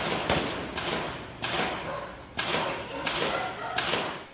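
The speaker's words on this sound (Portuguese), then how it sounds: "Alguns moradores chegaram a registrar com o celular o som dos disparos e das rajadas." Gunfire in a residential area, recorded on a phone during a shootout: repeated sharp, loud bangs and bursts come in a steady series of about six heavy cracks, each trailing into a rough, echoing wash.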